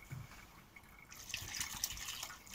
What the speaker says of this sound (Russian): Добавляем воды.